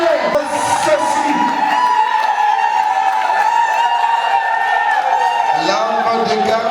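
Audience at a trophy presentation applauds and cheers, a dense, steady wash of clapping mixed with whoops and shouts that holds loud throughout.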